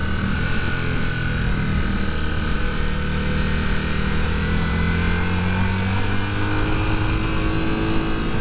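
Honda CB250 Super Dream motorcycle engine running steadily at moderate revs while being ridden, a continuous close droning note that climbs slightly without breaking free, with wind noise throughout and no talk.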